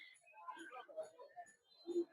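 Pigeons, including young birds, give a few brief low coos among pigeon cages, faint and partly mixed with nearby talking.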